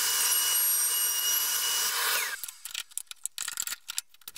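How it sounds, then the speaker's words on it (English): A high-pitched power tool whines steadily as it cuts wooden handholds in a tray using a clamped jig, then stops abruptly, followed by scattered knocks and clatter. "With the jig clamped up tight, it's a simple matter to cut our handholds."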